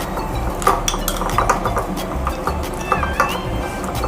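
A spoon scrapes and clinks against a bowl as a garlic spread made from 20 to 25 cloves is stirred, giving a close, irregular clatter of metal on dish with small knocks throughout.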